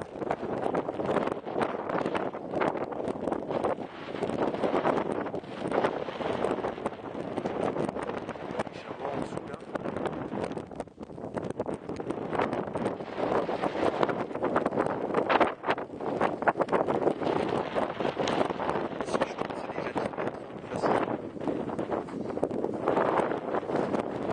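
Strong wind blows across an exposed mountain, a continuous rough roar buffeting the microphone up close for the whole stretch, with gusts swelling and easing but never dropping away.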